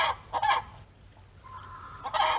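A hen squawks loudly in short, harsh bursts on a Florida homestead, with a brief pause and then another raucous outburst, close by.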